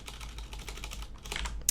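Rapid typing on a computer keyboard, a steady patter of quiet close keystrokes with one sharper clack near the end, with no voices.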